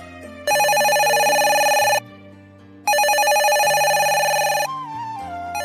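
A mobile phone rings loudly in a home, sounding two long bursts of bright electronic ringtone with a short silence between them, then the ring cuts off.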